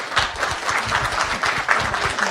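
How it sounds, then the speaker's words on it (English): A conference audience applauds for Cindy Romer at an MSA Coalition patient and caregiver dinner reception in New Orleans, with steady, dense clapping throughout at moderate loudness and no talk. "I think she deserves a big round of applause"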